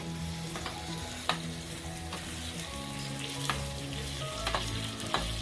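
Mutton keema is stirred into a sizzling tempering in a pan, with a constant crackling fry and a few sharp spatula knocks and scrapes against the metal.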